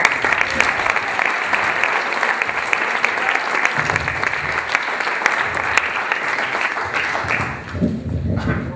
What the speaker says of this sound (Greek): θέλω ένα χειροκροτισμό